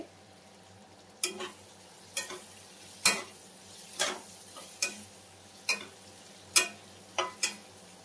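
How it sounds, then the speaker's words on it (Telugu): Bitter gourd fries in a pan while a spatula stirs it, giving about ten sharp, evenly spaced scrapes and knocks over a quiet, steady sizzle. "సో ఇలా ఫ్రై చేసుకోవాలి మంచిగా."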